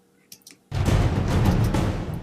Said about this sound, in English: Albion 1, I believe, is the mid perc hits